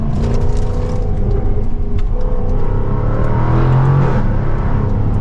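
A 2024 Jaguar F-Type R75 AWD Convertible accelerating hard, its engine loud and close with a strong, steady roar that climbs in pitch as the revs rise.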